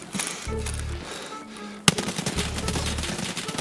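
An RD-704 rifle in Escape from Tarkov fires in two sharp bursts of rapid automatic shots, loud and close, separated by a sudden crack and a brief gap.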